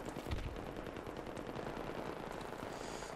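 An enemy fires at the player in a video game: rapid, continuous bursts of automatic gunfire rattle at moderate volume for the whole stretch, with no voices.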